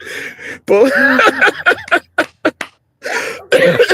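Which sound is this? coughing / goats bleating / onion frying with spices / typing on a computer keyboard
coughing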